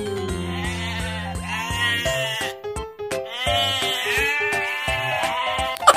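A black toy goat with horns and a white belly gives repeated electronic bleats, a string of wavering tonal cries with brief gaps and a short pause midway, loud and close with no talking.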